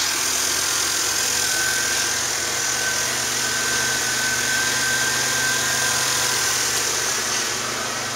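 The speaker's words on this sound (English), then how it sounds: "Motor runs fine." A Ford Econoline E150 half-ton van with a 4.9 engine, automatic, high mileage and extremely rusty, idles steadily, an even, continuous mechanical hum with a faint whine, close and without any talk.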